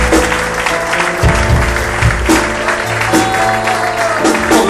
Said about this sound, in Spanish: ¡Dale ese aplauso grande a Jesucristo!